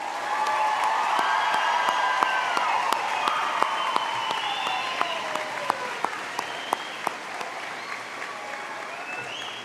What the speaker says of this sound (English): how about we give another big round of applause to this grad class